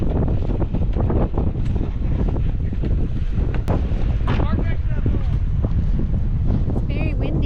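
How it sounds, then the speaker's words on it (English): Heavy wind buffets the microphone throughout, a constant loud roar with gusty rumble, with brief voices mixed in. "It's very windy."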